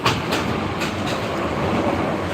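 The Bijoy Express passenger train bound for Jamalpur rumbles along the rails, heard from on board as a steady broadband roar with faint rhythmic clicks of wheels over joints.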